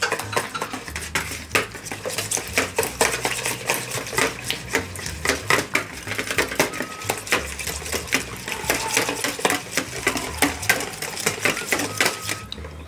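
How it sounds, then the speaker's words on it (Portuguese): Cake batter with margarine beaten in a bowl, a steady run of rapid clattering taps and scrapes of utensil against the dish, close and busy throughout, with no talking. "acrescento a margarina. Continuo batendo."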